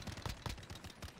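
Rapid bursts of automatic gunfire from the video game Call of Duty Modern Warfare, several sharp shots in quick succession at moderate loudness, with no talk over them.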